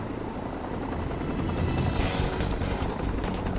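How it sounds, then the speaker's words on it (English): Helicopter landing on a lone peak in the Snake River Range outside Grand Teton, a steady loud rotor thudding and turbine roar throughout, close and continuous with no talk. "a helicopter lands precariously on a lone peak"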